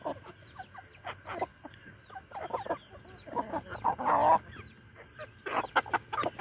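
Chickens cluck repeatedly while pecking at feed bags, with short bursts of hen calls and occasional rooster-like notes coming near and far in a busy farmyard chatter; no talk.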